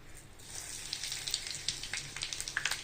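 Asafoetida and five-spice seeds dropped into hot oil in a pan, a steady close sizzle with small crackling pops.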